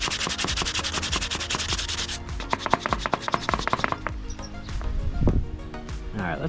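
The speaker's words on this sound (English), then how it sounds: "I'm just gonna try dry sanding here." Dry sanding by hand on a plastic side cover for the gas tank of a Yamaha 225DX three-wheeler ATV, a steady close rasping scrub in quick back-and-forth strokes that slows and loosens toward the end.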